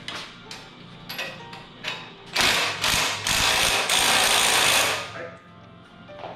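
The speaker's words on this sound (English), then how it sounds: "Jack it up." A car jack raising a Trans Am: ratcheting mechanical clicks in short bursts, followed by a longer, louder grinding crank, with rustling and movement around it.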